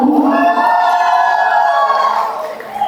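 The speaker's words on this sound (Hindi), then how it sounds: "जोरदार तालियां होनी चाहिए एवरीवन" Crowd cheering and whooping at a wedding sangeet night, a loud, continuous wash of voices that holds steady for a few seconds before easing slightly at the end.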